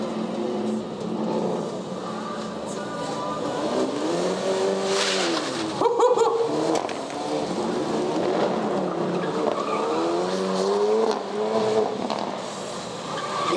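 A race car slides into a skid with tyres squealing loudly, engine roaring and revving throughout as it is driven hard on a track, the screeching pitch bending up and down across the run.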